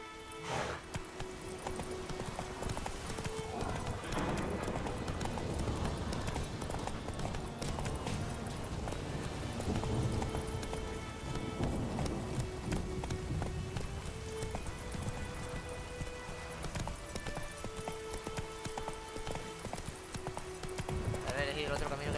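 Roach the horse galloping in The Witcher 3, steady rhythmic hoofbeats running throughout under game music, with occasional snorts or whinnies and brief voice sounds.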